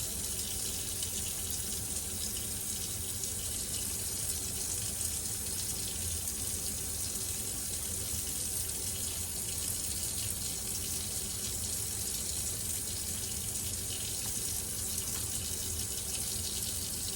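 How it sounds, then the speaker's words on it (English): Running tap water pours steadily into a sink as hands are scrubbed with soap underneath, a continuous close hiss with slight splashing variation throughout and no speech. "on some soap, scrub every place possible on your hands."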